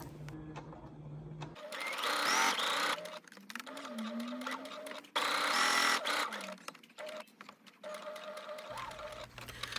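A sewing machine stitches a dart on a wrap dress in two loud bursts, slowing near the fabric edge, with quieter pauses and handling between them.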